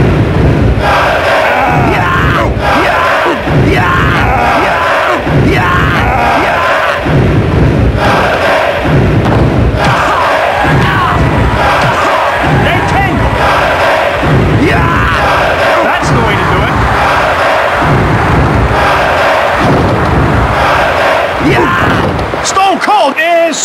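A loud, continuous crowd roar fills a WWF Attitude wrestling match between Owen Hart and Stone Cold, with rhythmic thuds and surges, while someone talks excitedly over it.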